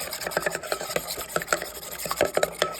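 A homemade coleslaw dressing is whisked quickly in a bowl, giving close, rapid scraping and rubbing strokes in a busy, steady rhythm with no talking.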